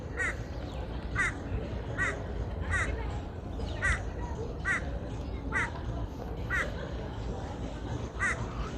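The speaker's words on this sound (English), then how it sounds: "This bird's just laughing at me now." A bird outdoors repeats a harsh, crow-like caw about ten times at an even pace over a steady rushing background, each call short and moderately distant.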